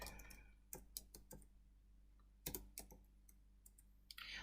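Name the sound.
typing on a computer keyboard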